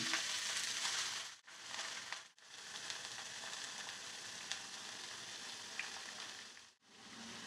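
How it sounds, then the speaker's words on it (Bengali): Chopped green amaranth hits hot tempering oil in a pan and sizzles loudly and close, a dense crackling hiss broken by several short pauses. "ফোড়নটা ভালোভাবে দেওয়া হয়ে গেলে এইবার দিয়ে দিতে হবে আগে থেকে কেটে রাখা শাকটা"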